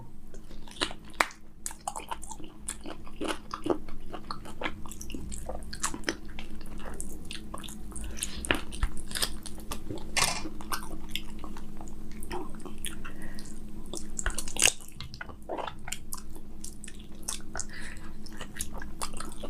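Goat trotters (mutton paya) eaten with haleem, close and steady wet chewing, slurping and sticky squelches with occasional clicks of bone, continuous and fairly loud, no talking.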